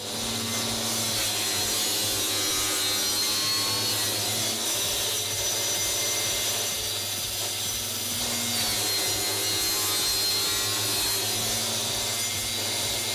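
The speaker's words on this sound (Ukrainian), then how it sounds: "Далі обрізання під 45 градусів." Steady rasping of a saw making a 45-degree cut through small wood offcuts, continuous and close, with a low mechanical hum underneath and no talking.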